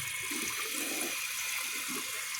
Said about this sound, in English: I'll raise that water line in the bowl a little more.